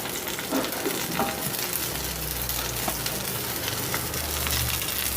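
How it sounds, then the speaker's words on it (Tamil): Thuthuvalai leaves and small onions sauté in oil in a pan, giving a continuous close sizzle and frying crackle with light stirring scrapes throughout and no talking. "கொஞ்சம் போல் சின்ன வெங்காயம் அப்புறம் எடுத்து வச்சுருக்கிற தூதுவளை கீரை அதையும் எண்ணெயில் போட்டு நம்ம நல்லா வதக்கிக்கலாம்"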